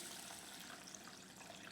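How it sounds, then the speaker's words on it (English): Water is poured over sushi rice in a bowl to rinse it, a quiet, steady trickling wash with no talk. "So the first time is I'm just going to pour some water in,"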